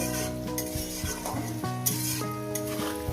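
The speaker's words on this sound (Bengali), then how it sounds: "এটাকে আমি লাল লাল করে সুন্দর করে ভেজে নেবো" Potatoes frying in a pan for a ridge gourd and poppy seed dish, with steady sizzling under clinking spatula stirs and scrapes, close and fairly loud throughout, with no talking.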